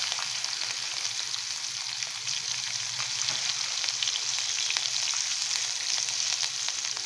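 Chopped green chillies fry and sizzle steadily in hot oil in a pan during a tempering for a South Indian vegetarian lunch dish, a dense, continuous crackle close up with no voices.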